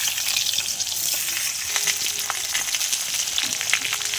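Chunks of bottle gourd and a dried red chilli fry in hot oil in a pan, a close, steady sizzle and crackle with occasional sharper pops and scraping stirs, and no voices.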